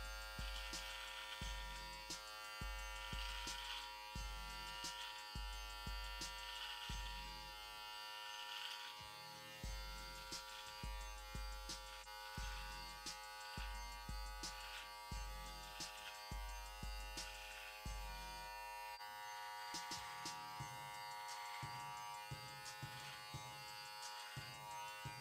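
A Brio Beardscape zero-gap beard trimmer runs with a steady electric buzz, pulsing as it is pressed against a coarse beard in repeated passes, close and clear with no talk.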